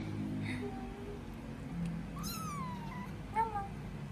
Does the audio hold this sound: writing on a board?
no